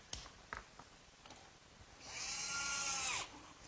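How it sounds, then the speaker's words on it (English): Electric jigsaw cutting a slot in wood for a workbench, a loud buzzing cut of about a second near the end, with a few faint knocks before it and no talk. "my electric jigsaw sure makes quick work of finishing up that slot."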